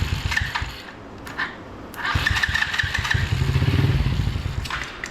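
A small 125cc ATV quad engine cranks and coughs, catching briefly with sputtering, uneven firing and clattery thuds before it dies down. The engine is close and runs on its own with no speech.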